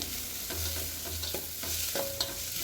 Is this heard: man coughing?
no